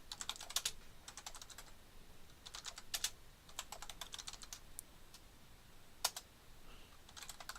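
A computer keyboard being typed on while a command is entered to set up a Linux server, with quick bursts of crisp keystrokes separated by short pauses, close and fairly quiet with no talking.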